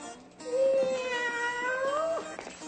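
A cat lets out a long, drawn-out meow that rises and wavers. It is loud and close, with nothing else over it.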